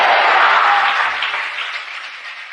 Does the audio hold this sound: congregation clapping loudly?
yes